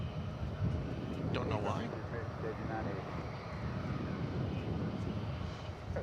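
An airliner landing at DFW Airport on runway 18 left comes through as a steady, distant jet roar under wind buffeting across the whole stretch. Someone talks close to the microphone over it.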